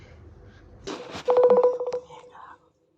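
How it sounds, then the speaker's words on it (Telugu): A telephone keypad sends a quick burst of rapid dialing tones for a prank call to a sister, preceded by soft rustling and a faint murmur, then falling silent. "కాల్ కట్ అయింది, మళ్ళీ ఒకసారి చేస్తున్నాం వాళ్ళని."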